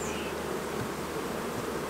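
Honeybees buzz steadily in an open beehive during a hive split, a close, continuous, even drone with no voices.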